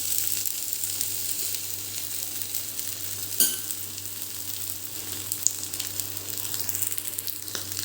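Masala patties sizzle steadily in oil on a hot griddle, a continuous close frying crackle with occasional brief pops, no voices.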